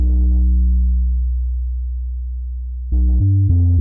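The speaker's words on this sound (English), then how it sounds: "This bass is the Attack MS-20 Square." An Attack MS-20 Square synth bass with its highs EQ'd out drones on one long, deep note that slowly fades, then steps through a few short, punchy bass notes near the end.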